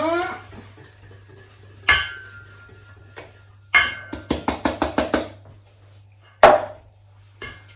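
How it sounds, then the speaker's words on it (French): Carrot waffle batter is whisked in a bowl: a few scattered knocks, then a quick run of sharp clinks from the whisk striking the bowl, with no talking. "Et je mélange au fouet."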